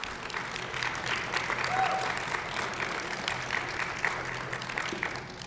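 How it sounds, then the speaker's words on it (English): An audience at a roundtable gives sustained applause for Hakeem and his group, dense steady clapping from a crowd with a few brief whoops. "Let's give a round of applause to Hakeem and his group here for the foresight."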